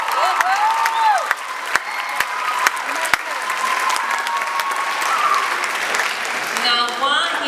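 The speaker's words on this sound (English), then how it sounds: "another round of applause" Audience applause at a school performance by a college group, dense clapping with a few sharp individual claps and scattered cheering, steady and fairly close.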